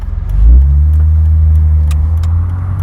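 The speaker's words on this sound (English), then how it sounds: "I'm going to do a 0 to 60, and then you can get a feel for what the sound is like climbing those revs" A BMW E46 M3 accelerates from a standstill in a 0 to 60 run. The engine sounds close and loud, a deep droning hum that swells early and then holds steady.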